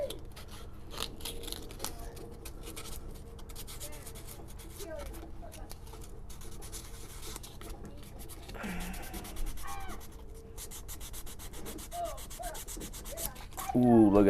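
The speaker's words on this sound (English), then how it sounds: "Put some scratches in it. Give me an easier piece of sandpaper to work with." Sandpaper rubbed across metal to scratch its surface, a steady, fairly quiet rasping scrape with rapid back-and-forth strokes throughout, swelling louder near the end.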